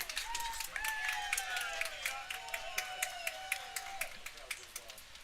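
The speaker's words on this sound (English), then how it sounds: "Crowd goes wild after the umpire called it a strike." Baseball crowd at a Front Royal Cardinals at Strasburg Express game cheering and clapping after a called strike, a sustained roar with scattered claps and whistles rising and fading over several seconds.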